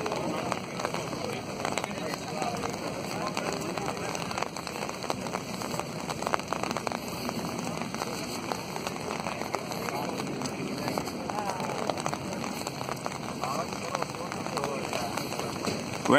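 Rain falls steadily on the new City Island Bridge during a walk across it, a constant hiss and patter close around, with a person talking at times.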